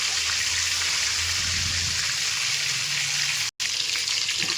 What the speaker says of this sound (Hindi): मैं अंडे को फ्राई कर लेती हूँ